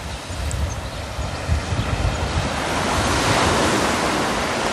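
Surf rolls onto the beach at Kinghorn Harbour in Fife, a loud, constant wash of waves mixed with heavy wind buffeting the microphone throughout.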